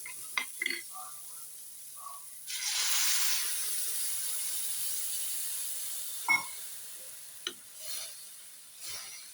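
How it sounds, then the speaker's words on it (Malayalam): A cup of water poured into a hot pan of frying vegetables for corn upma sets off a sudden loud hiss that fades slowly over several seconds, framed by a few clinks of a spoon. "അതിനകത്ത് ഒരു കപ്പ് വെള്ളം ഒഴിക്കുക."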